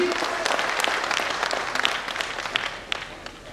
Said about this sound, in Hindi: एक बार जोरदार ताली हो सकती है जी